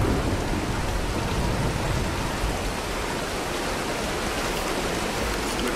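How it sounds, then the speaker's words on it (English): In the video game Tomb Raider 2013, a heavy rain and thunderstorm pours steadily with dense, hissing rainfall and low rumbling thunder. The storm fills the whole stretch at a constant loud level, with no voices. "let's wait out the storm"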